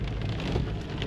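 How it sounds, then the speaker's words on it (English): Steady rain falls outdoors on an early morning in poor weather, a dense continuous patter of drops on surfaces, close and fairly loud with no voices. "it's raining. It's terrible weather."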